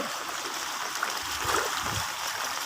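Rushing flood water running down from the mountains, a steady broadband wash of flowing and splashing water that stays loud and continuous throughout, with no speech.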